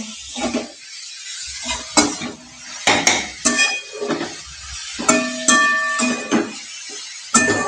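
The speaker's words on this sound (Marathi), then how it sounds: "चवीनुसार मीठ टाकून घ्या तुम्ही. आणि प्रॉपर मिक्स करून घ्या मस्त." Radish bhaji (mulyachi bhaji) stirred in a metal pan, loud repeated scrapes and clanks of the spoon against the pan in an uneven rhythm with faint sizzling beneath, no speech.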